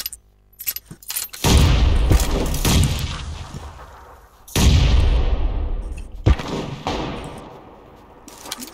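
Two heavy, booming grenade explosions in PUBG, loud and close, each swelling and then slowly fading, with scattered sharp gunshot cracks between and after them.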